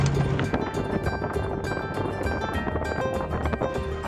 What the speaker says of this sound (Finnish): Tuulee vähän ulkopuolella.